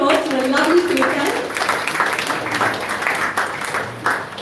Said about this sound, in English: Let's give them a round of applause for a lovely Kirtan.